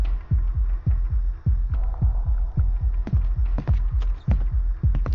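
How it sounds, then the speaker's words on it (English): A heavy, throbbing heartbeat from a horror video game, pulsing steadily and loudly up close in a regular double-thump rhythm over a low hum, with no voices. "that's just my heartbeat"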